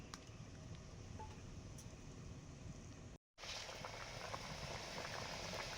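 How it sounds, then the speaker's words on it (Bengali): Fish curry broth boiling in a pot, a continuous bubbling hiss close by, briefly cut to silence then resuming slightly louder and busier. "ঝোল ফুটে গেছে"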